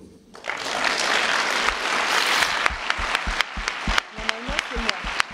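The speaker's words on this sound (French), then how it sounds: "Le public peut s'applaudir." An audience applauds loudly, the dense clapping thinning out into scattered individual claps toward the end.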